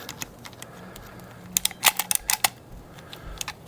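A PEX clamp tool crimps a half-inch fitting: a cluster of sharp metallic clicks and snaps, close, over a quiet background with no speech.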